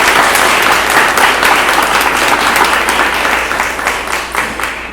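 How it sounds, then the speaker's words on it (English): An audience at a school ceremony bursts into loud, sustained applause for the families, dense clapping that holds for several seconds before slowly tapering off. "I'd like to take a moment to give a round of applause to our families"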